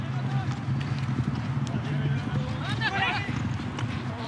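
Polo horses' hooves thud and clip-clop at a gallop during an Argentine Open polo match, a busy rhythmic pounding under continuous commentary and crowd noise, with a brief whinny-like sound.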